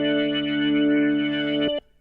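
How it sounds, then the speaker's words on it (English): Sustained synth chord run through the AudioThing Reels tape plugin with its drive pushed for saturation, tone off, noise low and filter raised; a thick, slightly gritty tone holds steady, then cuts off abruptly near the end. "And then just use the drive to add saturation."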